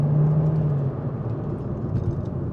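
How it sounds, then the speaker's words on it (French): A Mercedes CLA 45 AMG four-cylinder drones steadily through its exhaust, a loud, low rumble holding a sustained tone near the car, with no voices over it. "même si ça fait déjà énormément de bruit à l'échappement"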